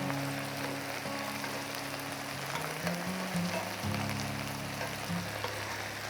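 Chicken wings browning in a hot pan give off a steady, close sizzle and crackle that runs the whole time, with a low hum underneath and no voices.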